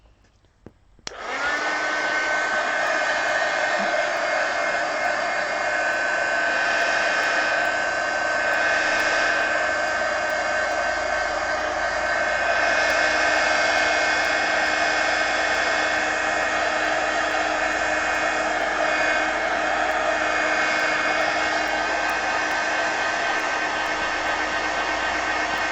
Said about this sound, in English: Now let me dry this with the heat gun.